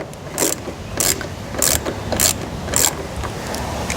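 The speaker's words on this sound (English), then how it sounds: "I'm first going to undo Audi's screw, their lone screw down here" A factory screw being backed out of the wheel-arch liner on an Audi C6, giving about five evenly spaced bright ratcheting bursts, close and fairly loud, with no talking.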